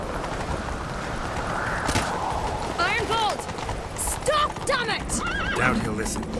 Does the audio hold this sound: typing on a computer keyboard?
no